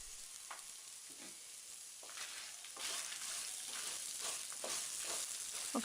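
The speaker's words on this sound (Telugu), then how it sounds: "నిమ్మకాయంత చింతపండును కూడా వేసుకుని 2-3 నిమిషాలు ఫ్రై చేసుకుని తగినంత ఉప్పు వేసి" Tamarind and ginger fry in a pan for ginger chutney, a close, steady sizzle with scraping stirs at irregular intervals growing a little louder partway through.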